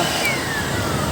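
Steady, loud rushing whoosh of an air blower running at full power into an amplifier, a continuous broadband roar with a faint high whine.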